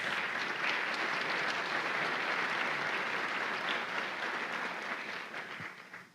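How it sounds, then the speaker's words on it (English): Audience at a regional economic forum applauding board members, a steady dense round of clapping that holds evenly for several seconds before tapering off at the end. "If you would please recognize them with a round of applause."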